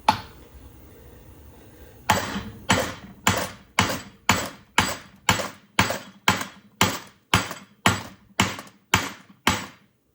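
Hammer blows driving the ball joint out of a control arm on a 2009-2020 Dodge Journey, done without a press: a dozen loud, evenly spaced metallic strikes after a short quiet lead-in, each ringing briefly.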